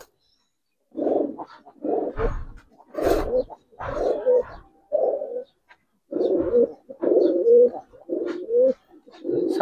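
A Giribaz pigeon, an old Dhaka breed, coos in repeated close, fairly loud bursts, with brief thumps and flutters as it is released.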